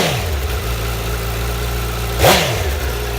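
A one-owner 2015 Honda CBR1000RR Fireblade Repsol with 1,570 miles idles steadily and close up, then gives one quick throttle blip that rises and falls before settling back to idle.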